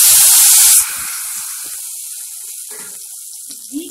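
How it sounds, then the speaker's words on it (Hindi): Soaked rice drops into hot ghee with cumin seeds and sets off a loud burst of hissing sizzle. The sizzle quickly fades to a quieter, steady frying crackle, and faint kitchen clinks follow. "और इसमें हम एक किया हुआ राइस डाल देंगे"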